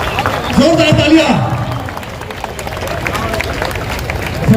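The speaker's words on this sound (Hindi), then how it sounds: "जोरदार तालियां।" Applause and cheering from a crowd at a mehndi gathering in Mumbra, a dense babble of voices and clapping that carries through the clip, close and fairly loud.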